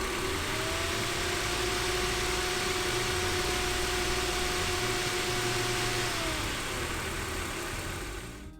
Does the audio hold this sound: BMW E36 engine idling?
yes